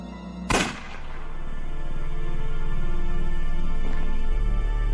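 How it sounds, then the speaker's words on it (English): A single sharp gunshot in the video game Unavowed, loud and close, followed by a sustained droning ambient tone. "Was that a gunshot?"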